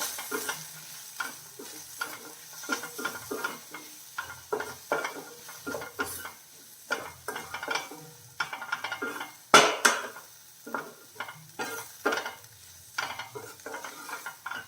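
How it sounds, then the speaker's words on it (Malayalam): Spices with half a teaspoon of garam masala for an okra curry are sautéed in a pan, with a rhythmic run of spatula scrapes and clanks against the metal over a soft, low sizzle, close and steady throughout. "ഗരം മസാല പൗഡർ അര ടീസ്പൂൺ അതും ചേർത്തു എല്ലാം കൂടെ നമുക്കൊന്ന് അതിൻ്റെ പച്ച മാറുന്ന വരെ ഒന്ന് വഴട്ടാം"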